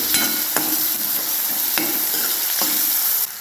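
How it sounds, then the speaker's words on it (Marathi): Finely chopped onion frying in a pan until reddish, a steady close sizzle broken by a few sharp stirring scrapes at regular intervals, with no voices. "बारीक असं कांदा चिरून घेतलेला आहे ते टाकायचं। कांदा आपल्याला लालसर भाजून घ्यायचे।"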